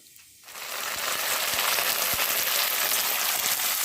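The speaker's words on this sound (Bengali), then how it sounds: "কালো জিরে ফোড়ন দিচ্ছি" Nigella seeds dropped into hot oil, breaking into a loud, steady crackling sizzle after a brief quiet start and holding evenly to the end, close up with no talking.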